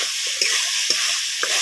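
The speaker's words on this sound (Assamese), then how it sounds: "আৰু ভালদৰে লৰাই দিম।" Cut potatoes stirred in a hot pan produce a steady sizzle with three rhythmic scraping strokes of a spatula, close and fairly loud.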